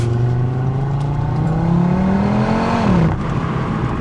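Audi RS3 hatchback's engine pulls hard under acceleration, a steady rising drone climbing in pitch for nearly three seconds before a quick drop as the gear shifts, heard close from inside the car with no talking.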